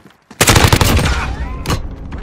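Automatic gunfire rips out in a loud, sustained burst in the Call of Duty Warzone video game, with rapid shots stacking into a dense fusillade and a second sharp volley near the end.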